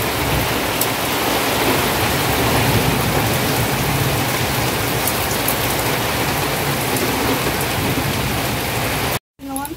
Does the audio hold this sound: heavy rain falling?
yes